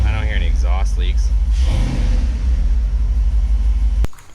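A Dodge 5.2L Magnum V8 fitted with shorty headers idles with a deep steady rumble and some valve train noise, close by, under someone talking at the start, then cuts off abruptly near the end.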